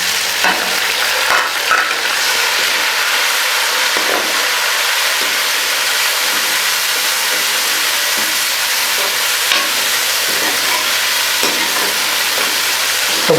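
Tomatoes sizzle and fry in ginger-garlic paste in a pan for beef karahi, a steady, close hiss with occasional stirring scrapes running throughout, with no talking.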